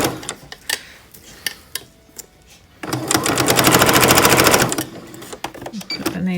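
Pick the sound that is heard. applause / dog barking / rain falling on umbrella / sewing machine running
sewing machine running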